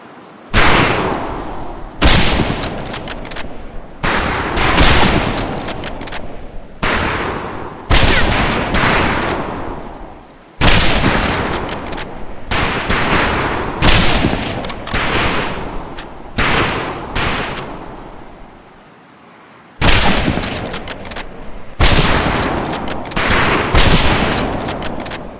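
Rifle fire at a firing range in Medal of Honor: Pacific Assault: loud, sharp shots come in dense bursts with brief pauses, several rifles firing close together, with no talking.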